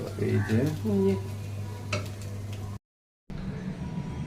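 Vegetable bhaji frying in plenty of oil in a home kitchen, with stirring and sizzling close up, pan and utensil clinks, a brief cutout of silence partway, then the frying resumes.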